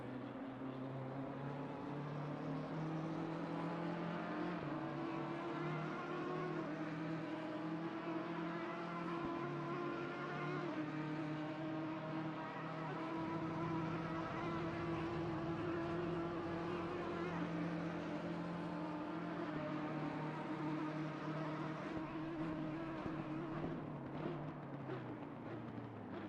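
GT race cars lapping Monza in a sim racing game, a steady droning engine note held continuously at close range, sustained without breaks.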